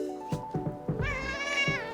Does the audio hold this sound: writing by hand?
no